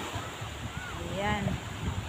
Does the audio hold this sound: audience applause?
no